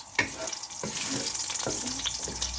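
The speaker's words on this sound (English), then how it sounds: "Sizzling away, the oil's nice and warm." Steady crackling sizzle of hot oil in a pan heating for pea pilau, with a few soft clinks and stirring sounds over it, close and fairly loud.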